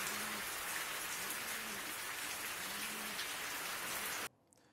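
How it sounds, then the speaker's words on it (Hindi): Torrential rain pouring steadily in Dehradun, a dense, even hiss of heavy downpour that holds for over four seconds and then cuts off abruptly. "राजधानी देहरादून में सुबह से मूसलाधार बारिश हो रही है"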